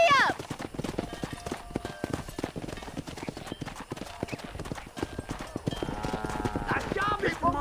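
Horse hooves clop in a fast gallop in Red Dead Redemption, a dense rhythmic pounding with a neigh near the end, loud and close while characters talk over the ride.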